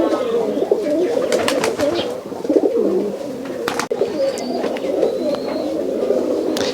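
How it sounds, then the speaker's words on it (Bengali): Black Musaldam pigeons coo repeatedly close by in a Rajshahi pigeon loft, a rolling, layered series of soft coos with a few brief sharp clicks and no voices. "এগুলো হচ্ছে ভাই কালো মুসালদম কবুতর"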